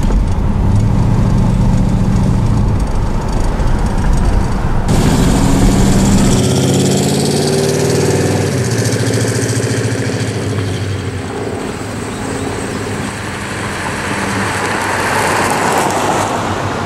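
A Grand Prix with a small 305 engine idles loudly and steadily, its deep rumble constant throughout with a rough, throaty texture and no voices.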